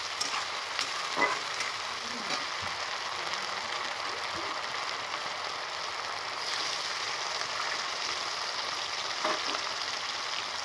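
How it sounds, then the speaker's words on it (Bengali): Ginger garlic paste fries in hot oil for a saag dish, giving a steady, moderately quiet sizzle with faint stirring clicks throughout. "আদা রসুনটা ভালো করে তেলের সাথে ভেজে আমি নেবো"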